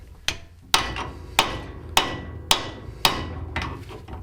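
Metal hammer blows striking a Honda CRX front ball joint to knock it down, seven sharp ringing whacks in an uneven rhythm about half a second apart, loud and close with no talk.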